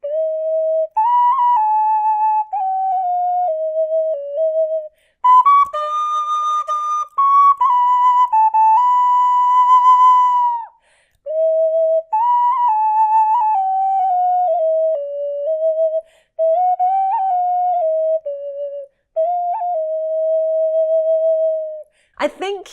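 A twisted, extendable 3D printed tin whistle in D plays a melody of clear, pure notes with rising and falling phrases and short pauses between them, close and fairly loud with no other sounds.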